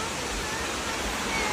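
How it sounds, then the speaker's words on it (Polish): Steady broadband rush of a waterfall beside a trail down to a small beach, a continuous even roar filling the clip with no pauses. "Tam jest wodospad."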